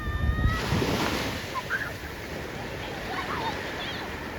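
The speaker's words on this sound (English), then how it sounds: "The waves are crashing." Ocean surf breaking on a shore at low tide, a steady broadband wash of waves rolling in, fairly close and continuous, with faint wind and distant voices in the background.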